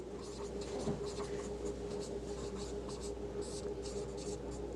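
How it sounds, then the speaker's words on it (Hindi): Chalk or marker writing steadily on a board while a maths problem is worked out, a continuous close scratching with short strokes over a low room hum and faint background voices. "ऊपर की तरफ लिखते थोड़ा सा"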